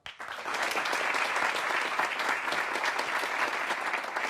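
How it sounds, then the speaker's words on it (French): Warm audience applause welcoming a string quartet onto a music television stage, dense even clapping that starts abruptly and carries on steadily at close range with no voices. "Je vous propose maintenant d'applaudir chaleureusement, déjà sur le plateau, le quatuor Diotima."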